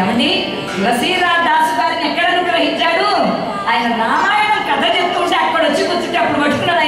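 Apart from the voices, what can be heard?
None of the usual background noises is heard.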